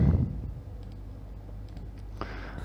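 Faint, sparse computer mouse clicks while drawing sketch circles in Creo 3D modeling software, a few soft isolated ticks over a quiet low room hum.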